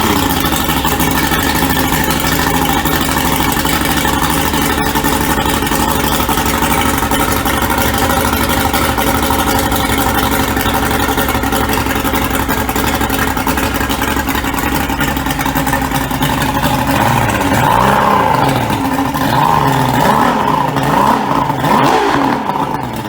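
A two-stroke outboard on a center console boat runs steadily at close range, a dense rumbling drone with some revving and pitch wavering toward the end, no talking over it.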